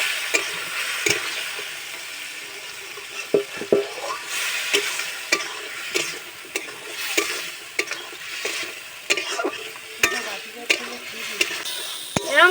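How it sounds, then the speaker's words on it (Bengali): Chicken offal stir-frying in a pan: a constant close-up sizzle broken by rhythmic spatula scrapes and taps as the pieces are turned again and again. "এরকম কষতে থাকবো, কষতে কষতে দেখবো যে এর গায়ে মাংস মানে এই রসটা লেগে যাচ্ছে"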